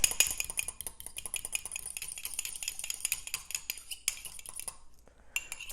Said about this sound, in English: crack our egg into this cup here, season it, scramble it up a little bit